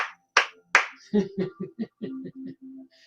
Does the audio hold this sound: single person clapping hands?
yes